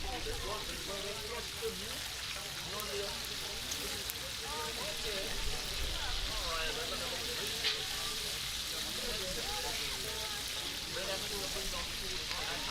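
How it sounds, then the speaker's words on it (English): A game bird sizzles and fries over coals, a steady, dense crackling hiss that runs throughout, with voices talking faintly beneath it. "this is what we call the quick sizzle with the bird"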